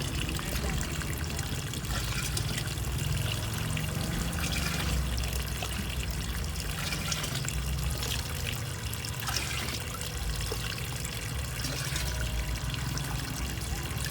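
Water running steadily from a hose or tap on a field of porang plants, a continuous rushing, splashing wash that stays loud and unchanging throughout, with no talking.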